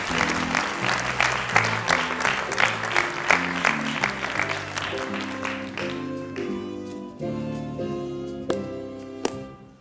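Applause from a magic show audience fills the opening seconds with dense, rhythmic clapping, then thins and fades toward the end, with music or tones sounding underneath.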